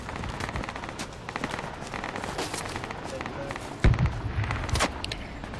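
Rapid automatic gunfire from friendly soldiers in the military shooter game Project Reality, bursts of rattling shots with a sharper loud crack partway through, heard alongside players talking.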